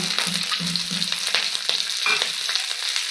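Taro and other ingredients frying in a little oil in a wok, a loud close sizzle with crackling pops and brief stirring scrapes, no talking.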